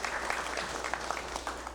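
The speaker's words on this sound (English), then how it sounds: "Let's give him a round of applause." Audience applause for the Australian ambassador at a congressional special session, a steady wash of clapping from a crowd filling the room for about two seconds.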